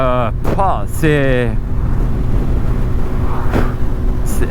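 The steady, close engine drone of a 22-year-old Yamaha Fazer 1000 motorcycle at speed with wind rush, while a rider speaks briefly over it at the start.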